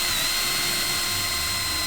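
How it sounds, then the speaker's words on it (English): A power drill with a bit just over a quarter inch bores through an end cap for a homemade monopod, giving a loud, steady high whine that holds level and close for the whole stretch. "take a drill, and any drill bit that's just slightly larger than a 1/4 inch"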